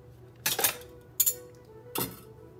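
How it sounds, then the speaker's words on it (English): A pan and whisk are picked up, producing three quick bursts of metallic clanking and clinking separated by short pauses, close and fairly loud. "Gotta grab the pan. Gotta grab the whisk."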